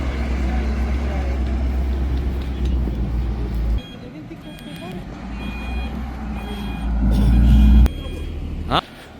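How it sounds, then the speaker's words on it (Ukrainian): A vehicle pulls onto a rough work site being cleared for an auto salvage yard, its engine rumbling steadily while a reversing beeper sounds, and several people talk over the noise. "що машина заїжджає"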